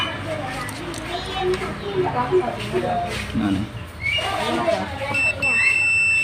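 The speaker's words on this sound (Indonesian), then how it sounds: "Saya akan bunyikan untuk buzzer-nya biar terdengar." A steady electronic buzzer tone switches on near the end, a sustained high whine layered over background talking and handling noise, from a multimeter continuity test during ignition repair on a Honda Beat FI scooter.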